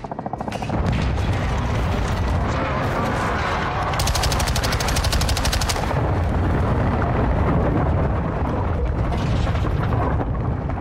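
A fire support strike in Call of Duty Modern Warfare II (2022), rendered as loud, continuous rapid gunfire and heavy blasts that keep up a dense, unbroken barrage throughout.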